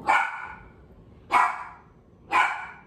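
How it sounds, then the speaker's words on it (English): A dog barks three times, each sharp, fairly close bark separated by about a second of quiet. "y'all hear her barking?"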